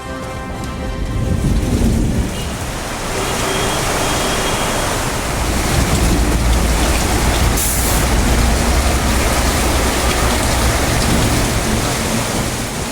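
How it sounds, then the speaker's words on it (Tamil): Heavy rain with strong wind sweeps over the Omalur area of Salem district in Tamil Nadu, a dense, steady roar of downpour and gusts with low rumbling, continuous and loud for the whole stretch with no voices. "சேலம் மாவட்டம் ஓமலூர் சுற்றுவட்டார பகுதிகளில் பலத்த காற்றுடன் கூடிய கனமழை."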